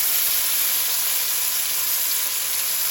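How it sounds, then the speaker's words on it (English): Oxtails browning in a hot pan give off a steady, loud, broadband sizzle with a bright hiss, unbroken for a few seconds and with no talking. "We're gonna get the oxtails in here. We're gonna brown them lightly"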